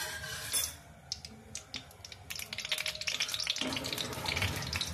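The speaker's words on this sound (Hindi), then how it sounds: "ये हमने तेल डाल दिया।" Oil poured into a pan starts heating, a soft crackling sizzle that grows denser and more rapid in the second half, with faint clinks of cookware, close by and without talk.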